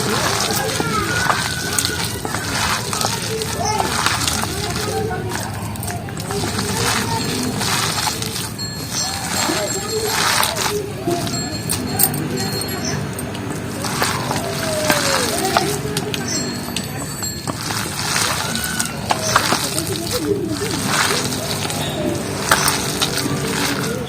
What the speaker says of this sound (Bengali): বেসন পাতা সবকিছু ভালো করে এইভাবে মিক্সড করে নিচ্ছি।